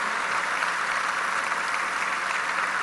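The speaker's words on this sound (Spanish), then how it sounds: "Un fuerte aplauso para nuestro hermano de Nayarit." Steady, dense applause from a large crowd at a Chiapas governor's annual report speech, sustained throughout without pause or voices.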